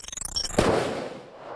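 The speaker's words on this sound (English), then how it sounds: "And that's when I heard a gunshot." A single sharp gunshot over a phone line, a loud broadband crack following a brief run of rapid clicking tones, then a decaying tail of noise.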